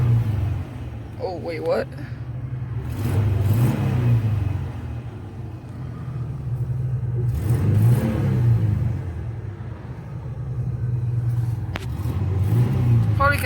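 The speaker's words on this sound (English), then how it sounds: "Just let's rev it up." A V6 truck engine, 3.0 or 3.6 litre, revs up close by with a steady low rumble that swells in surges, while people talk over it.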